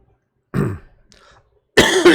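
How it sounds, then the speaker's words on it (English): A person coughs twice, each a loud, close, harsh burst separated by a quiet pause, with a faint throat sound between them. "I'm sorry I coughed so many times"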